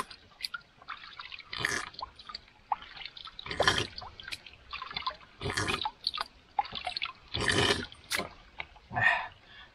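Close water sounds in irregular bursts, splashing and slurping while scooping and drinking from a river, fairly quiet with pauses between.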